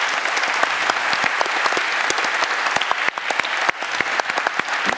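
Steady, sustained applause from a lecture audience clapping for event volunteers, many hands at once at an even level with sharp individual claps standing out.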